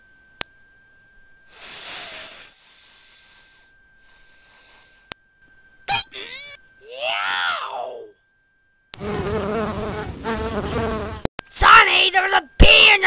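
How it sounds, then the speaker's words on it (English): A cartoon bee gives two short, steady buzzing drones that swell and fade, followed by other cartoon sound effects and vocal noises. "there was a bee in your dark flower!"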